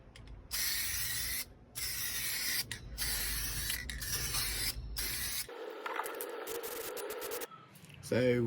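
A spray paint can hisses in long, close bursts onto the rusty floor pan of a Toyota Land Cruiser, with short pauses between passes, followed by rattling and handling noises.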